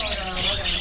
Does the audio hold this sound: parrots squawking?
yes